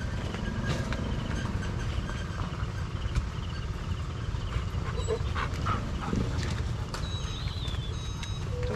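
Dogs bark outdoors at a kubo building site, scattered barks and whimpers rising over a constant rumbling background of noise, fairly distant and mixed with other activity rather than standing alone.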